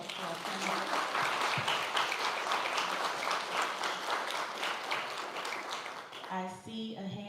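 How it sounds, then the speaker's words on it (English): Audience applauding panelists at a New York State Commission on African American History meeting, a steady roomful of clapping that fills most of the stretch before tapering off, with a voice starting to speak at the end. "Let's give a round of applause to our panelists."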